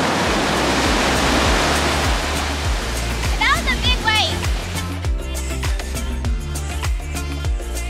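Surf breaking and washing ashore at Melbourne Beach, Florida, a loud steady roar of waves with rhythmic low thumps, while music plays underneath partway through.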